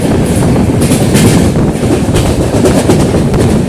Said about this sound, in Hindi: ट्रेन काफ़ी स्पीड में चल रही है।